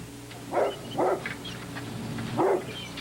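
Coon hunting dogs bark three times in separate loud yelps against a low background hum, with no talking.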